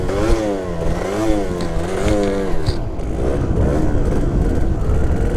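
A Yamaha DT dirt bike revs loud and close through a catwalk wheelie, its engine note rising and falling in repeated throttle swells before settling into a rough, steady drone.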